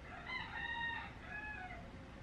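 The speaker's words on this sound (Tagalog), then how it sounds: "Ingay ng manok." A rooster crows once, a drawn-out call at moderate distance, trailing off into a quieter second phrase over a low background hum.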